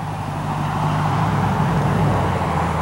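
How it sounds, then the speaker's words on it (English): A vehicle passes along a road beside a vegetable garden, a steady low engine and tyre rumble that holds loud and even for the whole stretch with no talking over it. "I'll let the vehicle pass again"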